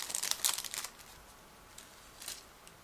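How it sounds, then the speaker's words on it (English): A plastic bag holding a clear plastic scale model part is opened, heard as a quick burst of close crinkling and rustling, then a few fainter crinkles, quiet with no talk. "It is packed into separate plastic bags, so again just give me a moment to open it."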